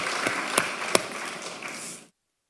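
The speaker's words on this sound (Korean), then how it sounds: "우리 박수 한번 쳐줘요." A short burst of applause from a gathered church congregation, steady clapping that fades out after about two seconds.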